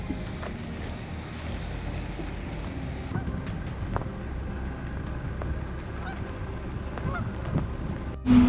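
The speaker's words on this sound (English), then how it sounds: "There's a lot of geese around here." Canada geese honk repeatedly amid a busy outdoor din of wind and rumble at a wildlife park, with scattered calls rising over steady background noise.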